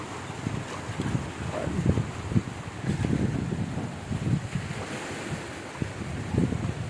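Strong typhoon wind roars and buffets the microphone over crashing surf, a continuous rough wash of storm noise with no voices.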